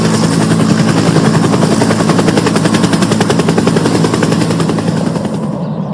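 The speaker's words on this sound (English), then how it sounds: "Why is the police helicopter here for?" A police helicopter arrives, its loud, steady rotor chop pulsing rapidly and continuously close by, with a dense engine roar that eases slightly near the end.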